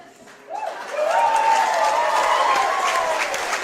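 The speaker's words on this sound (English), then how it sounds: "Why are you clapping Sam Bailey?" Crowd applause at a wrestling match, a pure rules bout between Chris Ridgeway and Sam Bailey, building after a half-second into steady, sustained clapping with loud crowd noise filling the arena.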